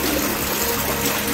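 Rainwater rushes steadily through a narrow, overfull drainage gutter, a loud, continuous close-up gushing and trickling wash with no talking.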